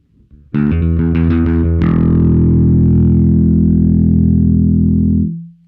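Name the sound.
electric bass through effects pedal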